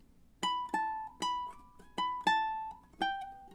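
Several plucked fingerstyle ukulele notes in a steady, moderately paced rhythm, each ringing briefly before the next, played alone and fairly quietly with no talking.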